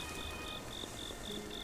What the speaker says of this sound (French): Il y a des grenouilles.